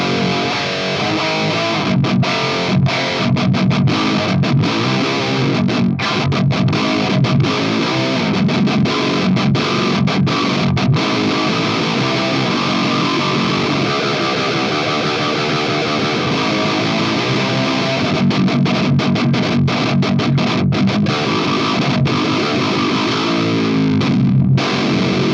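Electric guitar runs through a KHDK Dark Blood distortion pedal with its noise gate engaged, giving loud, continuous high-gain riffing with sharp, tightly gated stops between chugging phrases.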